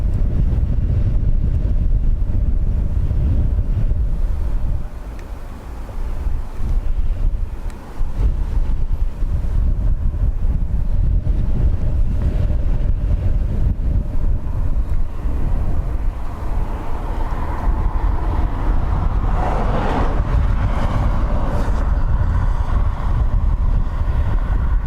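Strong wind buffets a microphone outdoors at Dublin Airport, a loud continuous low rumble that holds for the whole stretch and dips only briefly.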